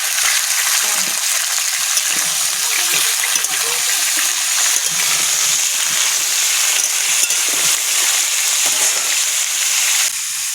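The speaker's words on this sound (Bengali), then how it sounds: "তরকারি দেবো, কষাই করে ভালো হবে।" Garden vegetables sizzling and frying steadily in a pan for khichuri, a close, continuous hiss with occasional stirring scrapes and no talk.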